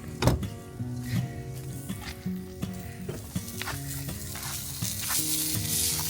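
Sausage and eggs fry outside an off-grid camper, a steady close sizzle and crackle running throughout, with a tuneful melody playing over it.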